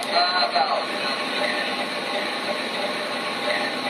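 A DCS Remote Commander plays model train sound effects: a steady hiss of rolling rail noise with metallic ratcheting and squealing tones, continuous and fairly loud.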